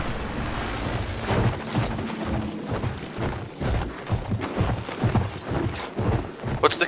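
Horse hooves pound in Battlefield 1 on the Sinai Desert conquest map: a steady, rhythmic gallop of dull thuds at moderate volume over a busy battlefield ambience.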